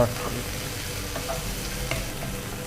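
Onions fry in a pan for chicken liver green masala, a dense, even sizzle with soft stirring scrapes throughout.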